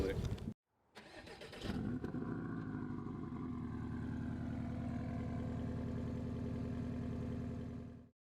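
A 2018 Porsche Cayman 718 GTS with a 2.5-liter turbo engine cranks and fires after a short silence, then settles into a steady, close idle that holds to the end.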